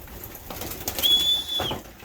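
Racing pigeons fly in to a loft, a soft flutter of wingbeats close by with a thin high squeak partway through, over a low outdoor background.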